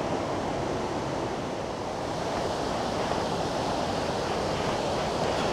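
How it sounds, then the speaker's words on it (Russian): A powerful mountain stream in the taiga of Khamar-Daban, swollen after rain, rushes in a steady, dense, moderately loud roar with no pauses or other sounds. "Довольно мощный ручей."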